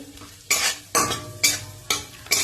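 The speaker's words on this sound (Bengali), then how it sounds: "এবার আমি কাজুগুলো ভেজে নিচ্ছি একটু ঘি দিয়ে" Cashews fry in ghee in a pan while being stirred, and about five loud rhythmic scrapes of a spoon against the pan rise over a soft sizzle, close and clear.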